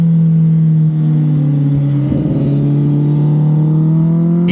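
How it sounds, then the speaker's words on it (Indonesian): A 1000 cc motorcycle engine pulls hard on a racetrack, a loud, close, continuous drone whose pitch climbs steadily as it accelerates, with a brief rough burble midway. "di sini kita merasakan bagaimana ledakan tenaga dari mesin 1000 cc yang sangat puas"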